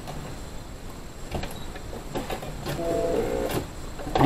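A Brother SE600 sewing machine stitches fabric diagonally, including a short backstitch, its motor whirring in uneven bursts with rapid needle chatter, close and fairly loud, no talking.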